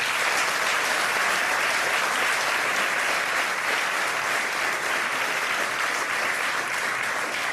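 Studio audience on a French TV political debate show applauding steadily, a dense, even wash of clapping that holds at the same loudness throughout with no voices on top.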